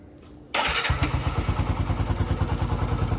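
A motorcycle engine, freshly washed, fires up after a short quiet moment and settles into a loud, steady idle with a rapid pulsing beat close by.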